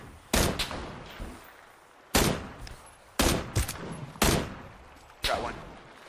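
Gunfire in the video game PUBG: several sharp shots or short bursts, spaced about a second apart, loud against a quiet background.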